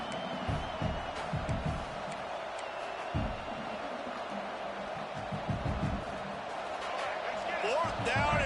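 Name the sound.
stadium crowd noise at a college football game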